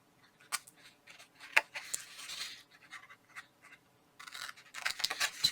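Scissors trim paper for a small stocking stuffer box, with a series of crisp snips and rustling cuts, close and fairly quiet, in irregular bursts with short pauses.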